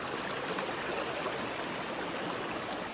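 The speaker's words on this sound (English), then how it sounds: "Such a relaxing noise, the sound of the river." Continuous rushing and babbling of a clear mountain stream flowing nearby at Mount Mitchell, North Carolina, steady and even with no voices.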